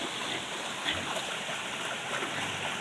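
Irrigation water flowing into a rice paddy in a rural farm setting, a steady close rushing and gurgling stream with no pauses.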